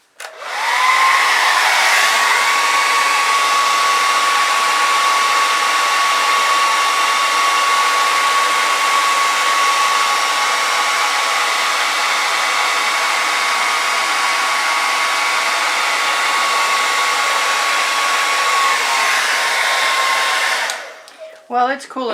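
A hair dryer blows on fluid art paint, a loud, steady close-up roar that runs unbroken for about twenty seconds before switching off.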